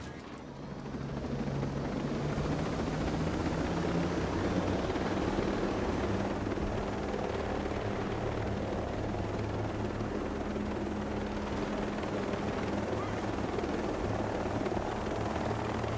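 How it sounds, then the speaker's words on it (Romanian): Helicopters in Ghost Recon Breakpoint roar with a continuous, loud rotor drone that swells in during the first seconds and then holds steady and close throughout, with no talking over it. "Două elicoptere sau unul?"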